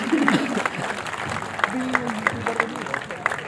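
Audience applause at an evening chefs-and-ideas gathering in Sunder Nursery, New Delhi, a steady patter of clapping that runs under a speaking voice throughout.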